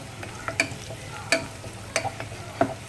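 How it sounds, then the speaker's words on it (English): Sardine curry stirred in a pan with curry leaves frying, giving a steady low sizzle broken by a handful of sharp spoon scrapes and knocks against the pan at irregular intervals, close up. "Give it a good stir"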